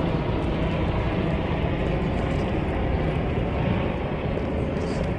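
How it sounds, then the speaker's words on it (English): Helicopters pass overhead as a continuous loud, broad rumble and roar that stays steady throughout, with no talking. "There's too much helicopters today."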